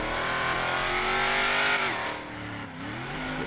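A big truck's engine revs inside a roleplay video game, a loud, close roar that rises in pitch, drops, then climbs again, heard alone with no voices.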